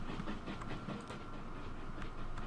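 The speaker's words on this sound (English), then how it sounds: "Ah, you're a fuel train." A fuel train rolls along in Transport Fever 2, giving a steady, dense rumble with faint rhythmic clicks of wheels on rails, continuous and fairly distant without any talking.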